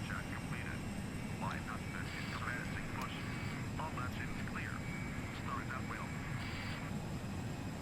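Airliner engines in the Prepar3D flight simulator, an A320 of Vueling, hum steadily from outside as a faint continuous drone, with scattered short tonal blips and clicks above it.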